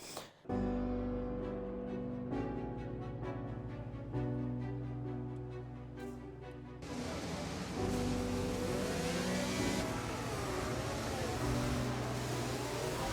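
A race car engine revs up through the gears, loud and close, with stepped rising pitch that gives way to a rougher, continuous roar.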